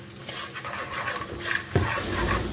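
Butter is stirred in a cooking pot with a spoon, giving soft scraping and swishing over a light sizzle, close up, with one louder clunk partway through.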